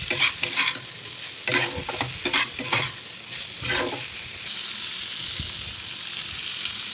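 Malabar spinach and fried shrimp stirred in a pan, with bursts of spatula scraping and clinking over a steady close sizzle, no voices.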